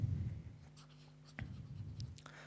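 Handwriting the end of a geometry solution on paper, a few faint scratchy pen strokes with a low steady hum underneath, quiet and close, no talking.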